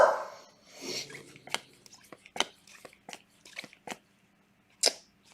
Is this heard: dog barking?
yes